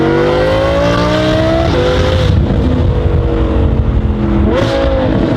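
A Lamborghini Huracan STO engine revs loudly and close, pitch climbing in rising sweeps, dropping off, then surging again near the end.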